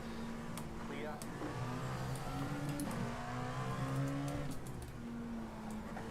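Race car engines drone and rev in a racing video game during a 6 Hours of Spa endurance event, the pitch climbing and dipping through gear changes while a person talks over the engine noise.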